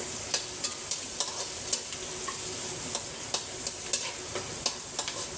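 Chopped onions fry in hot oil in a pan for menudo, a steady close sizzle with scattered light clicks and scrapes as they are stirred.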